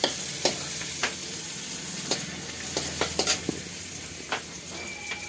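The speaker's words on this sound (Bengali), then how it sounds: "এই যে এদিকে ভাজা হচ্ছে।" Chow mein ingredients stir-fry and sizzle in a pan, a steady hiss broken by sharp scraping and clacking strokes of a utensil against the metal, close and clear with no voices.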